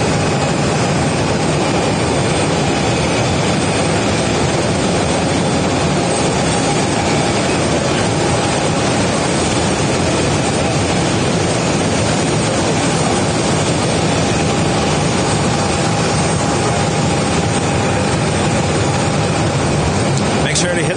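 Boeing 787 Dreamliner jets at Phoenix Sky Harbor Airport produce a loud, continuous broadband engine roar that stays steady from start to finish, with people talking over it.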